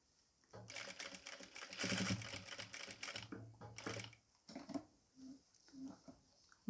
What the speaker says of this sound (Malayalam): താഴേക്ക് സ്റ്റിച്ച് ചെയ്ത് കൊടുക്കുക.